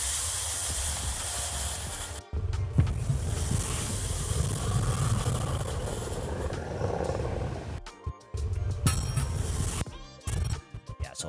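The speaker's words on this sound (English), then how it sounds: "this could actually be good for when the steam comes out" Steam hisses in a broad, loud, continuous roar with a rumbling low end, cutting off abruptly a few times near the end before returning in short bursts.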